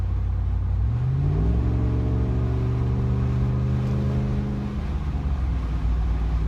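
A Ram Rebel pickup with a Carven Progressive exhaust accelerates to highway speed. Heard from inside the cab with the rear slider open, its deep droning exhaust note rises steadily in pitch and then settles into a constant hum under wind roar.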